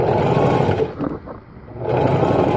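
A sewing machine stitches material for a van's zipper door, a close, steady motor whir that stops briefly in the middle and then starts again, with no talking.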